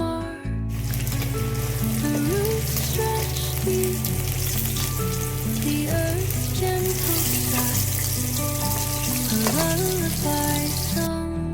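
Parshe fish with turmeric, mustard and poppy-seed spice frying in a pan, a steady broadband sizzle running the whole time, partly buried under loud melodic background music.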